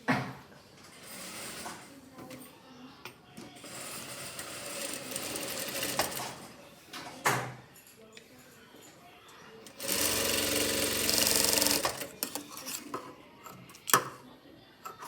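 Sewing machine stitching a blouse in a tailoring class, running in several bursts with a long steady whir near the middle, between stretches of a person talking.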